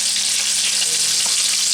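Tri tip beef sears in a cast iron Dutch oven with a steady, close hiss of sizzling fat that holds evenly throughout, with no voices over it.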